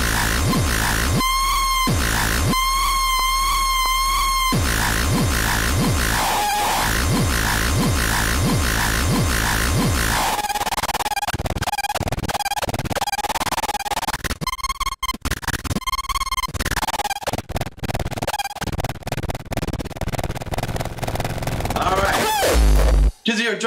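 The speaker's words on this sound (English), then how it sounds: "Does your synthesizer sound like this? You need it to sound like this." A synthesizer demo of harsh, buzzing electronic tones: warbling pulsed patterns give way to choppy, stuttering bursts, loud and continuous throughout.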